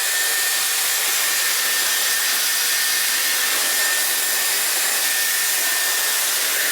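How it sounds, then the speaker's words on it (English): Dyson Airwrap with its hairdryer attachment blowing a steady, close airflow roar aimed at the roots of short, lob-length hair, continuous and unbroken throughout with no talking. "I'm just going to give it a quick blast with the hairdryer attachment."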